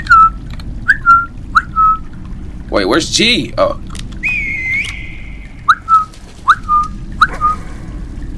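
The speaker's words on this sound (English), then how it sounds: "All right, let's whistle." A person whistles a series of short rising notes, spaced out and fairly close, with a brief stretch of speech interrupting partway through.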